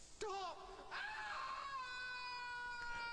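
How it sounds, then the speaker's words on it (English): A wailing scream from the video game Loom rises and wavers over a few seconds, fairly faint, with a tonal, moaning quality and a sharp onset. "Love the scream."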